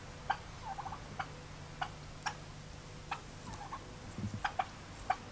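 Wild turkeys in the mountains of northern Mexico during the May to June breeding season give short, faint gobbling calls scattered over several seconds, with a low hum and ticking sounds underneath.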